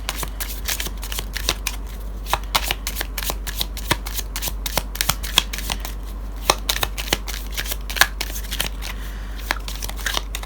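A deck of tarot cards is shuffled continuously in the hands, a dense run of quick riffling snaps and flutters close by, with a low steady hum underneath.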